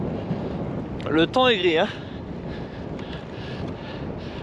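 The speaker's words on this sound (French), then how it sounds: "Il y a beaucoup de vent." Strong wind rushes past a cyclist on a long winter ultra-distance road ride, a steady close roar of microphone buffeting that fills the whole stretch, with someone briefly speaking over it near the start.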